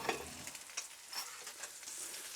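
Seasoned flounder sizzles hard in a hot cast iron pan as it blackens, giving a steady close-up crackle and hiss with small pops, and no talking.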